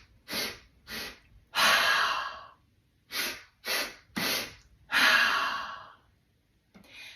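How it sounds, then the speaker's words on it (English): Three short, sharp nasal inhales in quick succession, then one long forceful exhale blown out through the mouth, with the whole pattern repeated twice, close and clear with no talking. "3 inhales through the nose and a big exhale through the mouth"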